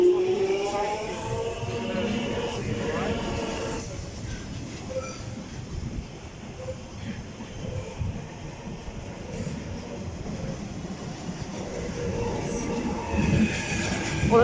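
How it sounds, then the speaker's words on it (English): A London Underground Jubilee line train rumbles slowly past Wembley Park into the siding depot, with steady wheel noise, clicking and faint squeals of wheels and brakes heard close by. "Jubilee line train's going into the siding depot"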